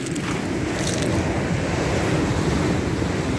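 Sea surf on the cold Sea of Okhotsk shore, waves about three to four meters high: a continuous heavy roar of breaking water mixed with gusty wind buffeting the microphone, loud and unbroken, no talking.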